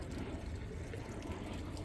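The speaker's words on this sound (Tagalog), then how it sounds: "Kaya pinapatagasan ko ng tubig yung strawberry" Water runs steadily onto strawberry plants on a small farm in Taiwan, a close, continuous splashing trickle with no talk over it.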